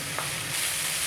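Chicken macaroni with butter and green coriander sizzles steadily in a hot pan while it is stirred, a dense, close frying hiss with one faint scrape, and no talking.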